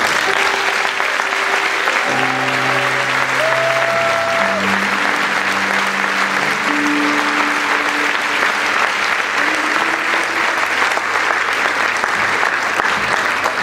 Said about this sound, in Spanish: Un fuerte aplauso al Espíritu Santo